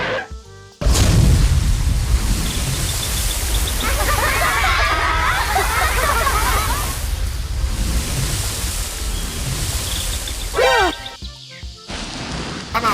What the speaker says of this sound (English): spray cool water on them